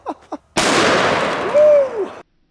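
A single deafening blast from a .500 Magnum revolver with an 8 3/8 inch barrel, fired into a cinder block, booming close and then rolling out with a long ringing tail after a couple of short voice sounds.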